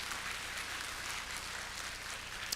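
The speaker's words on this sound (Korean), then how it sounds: "우리 하나님 앞에 영광의 박수 한번 돌려보려고 하는 거죠" A church congregation applauds during a Christmas service, a steady, dense wash of clapping hands held at an even, moderate level throughout, with no voices over it.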